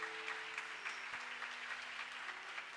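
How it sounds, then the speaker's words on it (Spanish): A church congregation applauding, a soft, even spatter of clapping heard from a distance and holding steady throughout. "Un aplauso al Señor."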